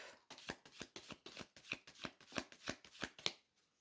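Tarot cards being shuffled and cut by hand, a steady run of soft riffling slaps about three or four per second, close and quiet with no voices.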